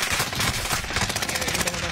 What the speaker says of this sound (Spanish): Pero me están disparando.